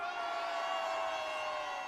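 A large crowd at a Gwangju political rally against the impeachment of President Yoon Suk Yeol in 2025 roars and cheers in a sustained, dense wall of shouting voices that stays loud throughout.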